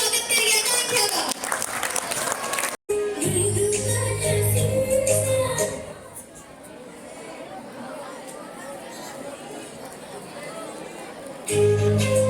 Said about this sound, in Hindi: तो जोरदार तालियों से स्वागत करिए आकांक्षा का